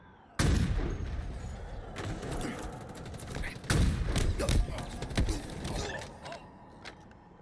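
Gunfire in Titanfall 2 Frontier Defense: a sudden loud point-blank shot opens a stretch of sharp bangs, thuds and mechanical clacks of close combat, with a voice talking underneath.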